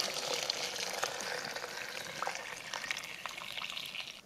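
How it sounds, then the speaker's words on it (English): Water pours in a steady stream into a pot of rice with blended tomatoes, garlic and onion for a large batch of Mexican rice, a continuous close splashing gurgle that fades at the end. "Add your water."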